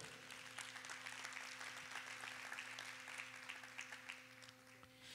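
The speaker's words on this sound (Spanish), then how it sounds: "Denle un fuerte aplauso al Señor." Applause from a congregation during a Spanish-language church service, a steady wash of clapping that runs the whole time at a faint level over a low electrical hum.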